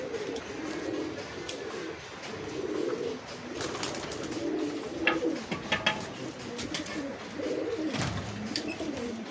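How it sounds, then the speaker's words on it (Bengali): Teddy pigeons, a Pakistani breed, coo in low repeated rolling calls close by, with faint chirps and a brief wing flutter in the background. "এটা টেডি পায়রা আছে।"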